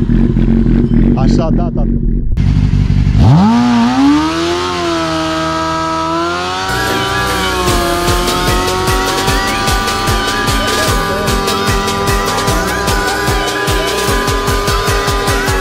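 A car revs hard and accelerates in traffic, its engine pitch climbing and holding in a loud, sustained roar with a fluttering exhaust note, while someone talks briefly over it.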